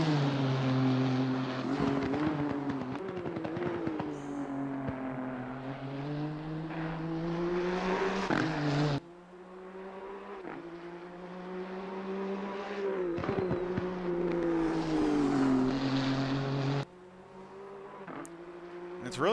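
Nissan GT-R GT3 six-cylinder race engine in Assetto Corsa Competizione at Monza, revving hard and steady with sharp drops at gear shifts and rising pitch through corners, loud and continuous under occasional speech.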